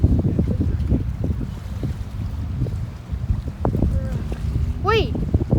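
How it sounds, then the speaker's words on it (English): Strong storm wind blows across a beach dock, a steady low roaring rush buffeting the microphone throughout, with voices talking and a brief high whistle near the end. "Jeez, it's windy."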